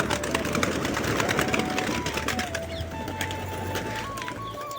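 A flock of pigeons let out of their coop, cooing and fluttering close by over a continuous background hum, with scattered wing flaps and rustles throughout.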